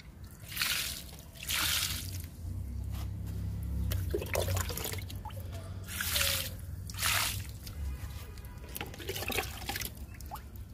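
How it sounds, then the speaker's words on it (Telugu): Liquid from papaya peels soaked for two or three days is poured onto tomato plants in a garden, making a splashing, gurgling flow that swells and fades in several bursts with trickling between, close by and with no talk. "టమాటా మొక్కలకి ఇద్దాము లిక్విడ్ని."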